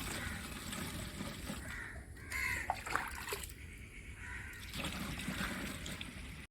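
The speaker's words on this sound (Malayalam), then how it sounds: "നമ്മളിത് ഈ ബാറ്ററിയുടെ പമ്പിലേക്ക് ഒഴിക്കുകയാണ്." Liquid sulphate of potash fertilizer pours from a container into the pump tank of a battery sprayer for rambutan trees, giving a close, steady splashing trickle that thins and pauses partway through.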